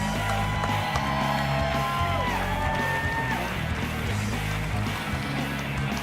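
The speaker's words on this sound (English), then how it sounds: "let's have a round of applause" A crowd cheers, whoops and applauds steadily for Heidi Steele at a short course racing kick-off event, a dense, continuous roar of voices with scattered shouts over loud background music.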